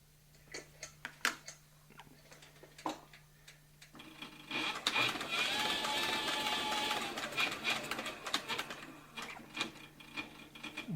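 A saddle and harness sewing machine stitches leather, starting with a few scattered clicks and taps, then running in a steady close mechanical whir for several seconds before stopping and returning to intermittent clacks.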